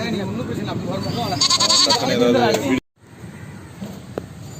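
Goats at a market in Pondicherry bleat loudly and close, several wavering cries over nearly three seconds with talk in the background, before the sound cuts to a quieter scene.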